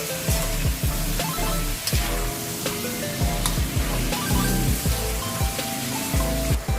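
Garlic and onion crackle in hot cooking oil with a dense, busy sizzle and scattered pops, steady and close, while a utensil stirs through the pan.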